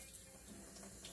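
A gentle water stream pours onto potted coleus plants, a soft continuous splashing trickle, brief and faint, with no talk.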